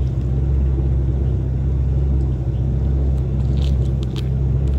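Steady low engine rumble of a boat fitted with a lateral thruster cruising down a canal, a constant near drone with faint higher clicks and hiss near the end and no talk.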